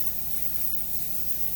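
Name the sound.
spraying graphene coating onto a car wheel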